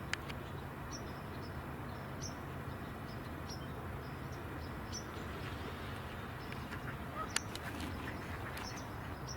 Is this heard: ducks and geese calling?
yes